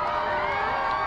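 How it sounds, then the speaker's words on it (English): A large crowd screams and cheers together in one steady, loud, dense roar during a solar eclipse as the sun peeks through clouds. "Can you hear that crowd screaming now"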